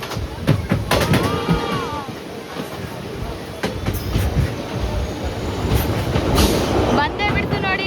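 A train rolls across the Pamban bridge toward Rameswaram with a loud, continuous rumble of wheels and carriages, sharp clacks, and occasional metallic squeals. Passengers' voices are audible underneath.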